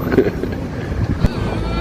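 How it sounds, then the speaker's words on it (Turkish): Wind buffets the microphone outdoors on the water aboard a sailboat at sunset, with gusty rumbling bursts and a faint voice underneath. "Rüzgar var"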